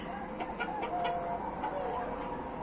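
Leghorn hens clucking in a garden, a continuous close flock chatter of soft clucks and murmurs over a busy outdoor background.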